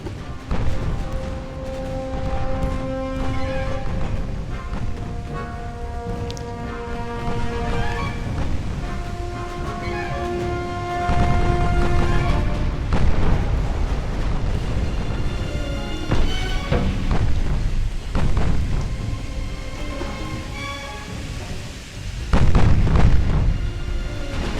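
Torpedo strike on a destroyer in the naval warfare game Ultimate Admiral Dreadnoughts: heavy booming impacts and crashes repeat over a steady bed of tonal game music and sea noise, loud and close throughout.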